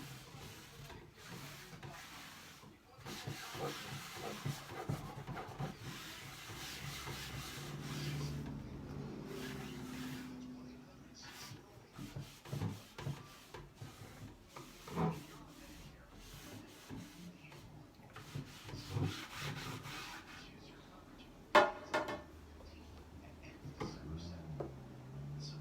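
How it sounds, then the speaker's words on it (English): Wax base coat being rubbed by hand onto clear-coated, sanded wood trim, giving soft, uneven scrubbing and rubbing strokes at close range over a steady background hum, with occasional louder knocks. "So I want to give it a good base coat of wax, and that way I can move my wax around."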